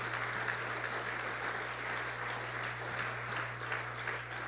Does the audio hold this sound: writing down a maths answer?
no